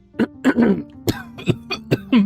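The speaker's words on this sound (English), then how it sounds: "the coughing isn't getting any better" Several harsh coughs and throat-clearing bursts in a row from a man, close up, with short pauses between them.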